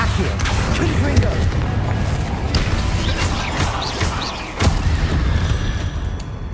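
A blasting spell explodes in Hogwarts Legacy, a loud boom and crash that rises from steady game ambience with a sharp hit around the middle, near and forceful.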